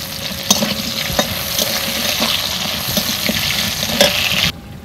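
Potatoes sizzling in hot oil in a pan, a continuous crackling fry with a few sharp stirring clinks, close and loud, ending abruptly.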